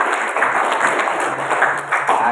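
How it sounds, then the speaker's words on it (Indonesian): Audience applause at a school socialisation event on religious moderation in Semarang, a dense steady patter of many hands clapping with no one speaking over it. "Tepuk tangan dulu untuk"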